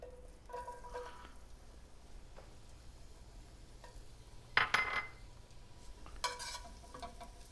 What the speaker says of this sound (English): we've got our garlic cooking on low in our olive oil